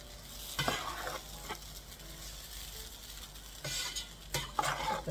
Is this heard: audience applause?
no